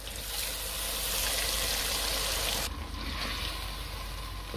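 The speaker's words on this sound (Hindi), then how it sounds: "ये 1 कप पानी शामिल करके इसको मज़ीद इतनी देर पकाना है कि ये पानी खुश्क हो जाए" Water is poured into mutton korma cooking in mustard oil, a loud steady rushing pour blending into sizzling that eases and settles after a few seconds.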